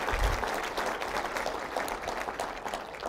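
An audience at a government address applauds the public safety group, a steady wash of many hands clapping at moderate distance, fairly faint and continuous with no voices over it.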